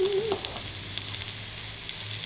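Green onions fry in a hot pan for a tofu stir fry, giving a steady close sizzle with a brief tonal squeak at the start, and no talking.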